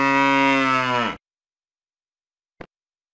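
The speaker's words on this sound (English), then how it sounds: "Cow." A cow lets out a single long, deep moo, loud and near, ending abruptly before a short click in the quiet.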